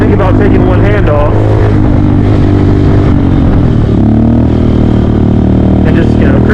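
A Honda Grom motorcycle engine, close and loud, with throttle blips rising and falling in pitch as it revs up, drops back and revs again, along with some clatter.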